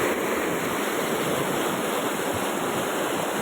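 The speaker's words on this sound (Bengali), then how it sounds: "জল আছে, প্রচুর হাই স্পিডে যাচ্ছে জল" Fast-flowing water rushes under a bridge near a water channel for crop irrigation, a steady loud broadband roar with no pauses, close to the microphone and alone.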